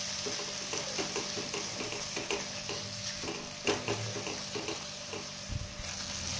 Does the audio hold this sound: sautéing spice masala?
yes